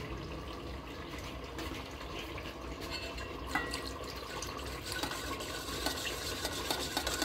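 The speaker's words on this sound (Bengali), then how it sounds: "এখন এটার সাথে পানি অ্যাড করব।" Water is poured into a yogurt and chicken mixture with a soft, continuous trickle and slosh at close range, quiet and steady with a few light splashes, and no voices.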